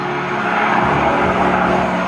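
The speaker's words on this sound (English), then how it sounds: "the sound of a Merlin, and we can hear two Merlins here, these aircraft is the real sound of an aeroplane" Two Merlin-engined aircraft flying at an air show make a loud, continuous, broad engine roar that holds steady throughout, with no talking.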